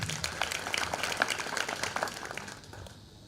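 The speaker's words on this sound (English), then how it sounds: "Clap for yourselves again." A crowd claps steadily for a few seconds at a teachers' college graduation ceremony, the applause fairly faint and even before tapering off at the end.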